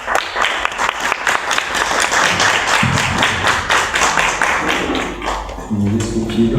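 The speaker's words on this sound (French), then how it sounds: "On l'applaudit." An audience at a casting event claps steadily for a performer on stage, a dense burst of applause that fades near the end as a voice begins speaking.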